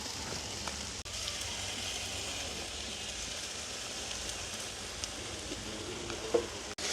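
Stir-frying with tomato sauce in a home kitchen pan, a steady close sizzle of hot oil with faint scraping and stirring clicks throughout and no talk.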